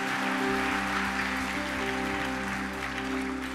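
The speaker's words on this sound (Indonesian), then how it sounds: "Kita berikan tepuk tangan buat Tuhan" A church congregation claps together for God during a New Year Sunday service, producing a dense, continuous wash of applause that runs the whole time over a steady low hum.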